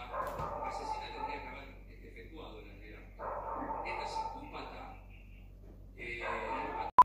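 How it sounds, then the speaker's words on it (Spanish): A dog barks in a few short bursts spread across the clip, fairly close but modest in level, with a voice talking over and between the barks. "Deja de ladrar"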